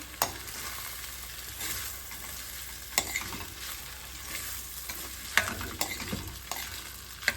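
Sabudana khichdi is stirred in a hot pan, with a soft continuous sizzle under scraping and scattered spoon clicks against the metal.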